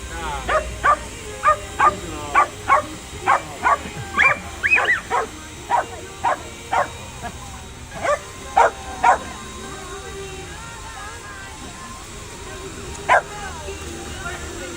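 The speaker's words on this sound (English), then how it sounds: "Uh-oh, and we got some dogs." Dogs at a house on a Dyker Heights street decorated with Christmas lights in New York City bark over and over in quick, evenly spaced yaps for about ten seconds, then once more later, close against steady outdoor background noise.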